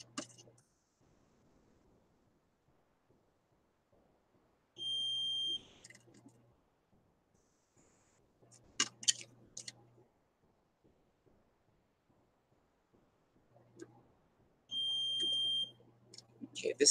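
A kitchen timer beeps in two short sustained bursts about ten seconds apart, faint and distant, with quiet rustling and clicks in between.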